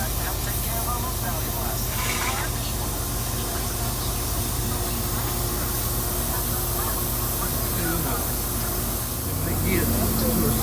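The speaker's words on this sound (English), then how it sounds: "And that's called purging it, right? You letting the air out?" Shielding gas hissing from a welding gas line as air is purged out: a steady, broad, loud hiss running throughout, with a low engine-like hum beneath and people talking over it.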